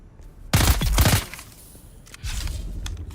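Bursts of rapid gunfire striking a wall in the sci-fi survival game Dune: Awakening, a loud close cluster of shots followed by a quieter rumble of impacts.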